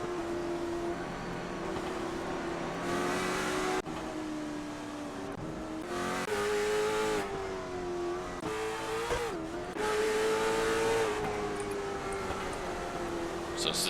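Race cars on the Concord oval in iRacing drone steadily through the whole stretch, engine pitch rising and falling as they lap, with a voice talking over the continuous motor noise.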